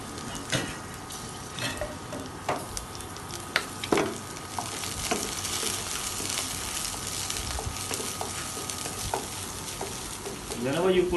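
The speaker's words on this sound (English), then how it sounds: "So you see the oil already jumping. Now we'll add some garlic and chili here." Garlic and chili fry in hot, spitting oil in a professional kitchen pan, a constant sizzling hiss dotted with sharp pops and occasional clinks of a utensil, close and steady with no talking.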